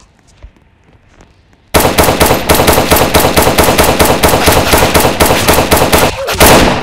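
After a quiet start, rapid automatic gunfire erupts and keeps going in fast, loud bursts, ending with a heavier blast, like a shooter game firefight.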